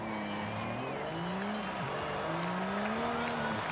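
A modified car in Forza Horizon 5 revs high, its engine note climbing and falling in sweeping pitch bends over a constant background roar, loud and up close.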